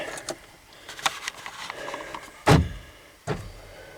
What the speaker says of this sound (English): Just heard the doors lock.